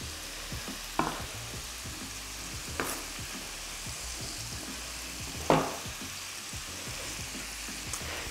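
Gyros meat being pan-fried and stirred in a tall pan gives a soft continuous sizzle, broken by a few sharp scraping clinks of a utensil against the pan, fairly quiet throughout.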